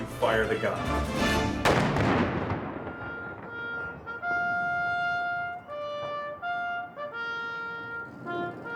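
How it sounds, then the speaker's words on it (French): Two or three deep booms of cannon fire burst loudly at the start, then their rumble fades as sustained tonal ringing and voices carry on afterward. "On se met à côté des canons, on se bouche les oreilles du mieux qu'on peut et on ouvre le feu."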